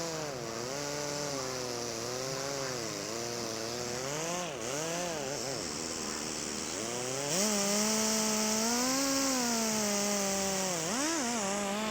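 A power buffer polishes gelcoat during a crack and chip repair, its motor whining in a steady tonal hum whose pitch wavers up and down as the load changes, close and continuous.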